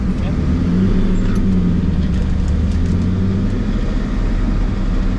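Turbocharged Mustang making its first drag strip pass with little traction, a loud continuous engine roar and broadband rumble heard at a distance amid track noise, with a voice speaking over it.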